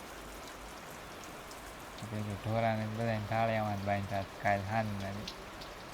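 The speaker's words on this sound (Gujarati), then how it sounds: "ધીમો આવે, આવો કંઈક આવે છે વરસાદ" Light rain falls steadily in a village courtyard, a soft continuous patter throughout, with a person talking over it for most of the clip.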